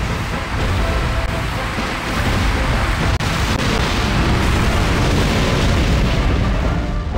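Dense, continuous rumbling booms with crackling bursts, a string of video game explosions in Godzilla 2 blending into a roaring wall of sound.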